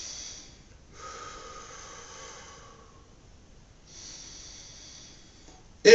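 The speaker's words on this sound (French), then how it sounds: "Je vais respirer 1 ou 2 fois profondément." Slow, deep breaths during a relaxing muscle-tension stretching session, with soft airy inhales and exhales in a quiet room, ending with a brief louder sound.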